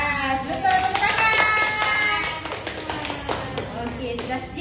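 A class of children claps hands together in a room, a burst of sharp, uneven claps with some voices and chatter mixed in, tapering off toward the end.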